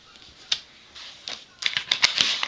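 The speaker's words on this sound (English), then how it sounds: "I'm just going to stamp this little bear right there" Rubber stamp pressed onto paper to print a small bear image for scrapbooking, heard as a few sharp taps and clacks, sparse at first and then in a quicker cluster, close and fairly quiet.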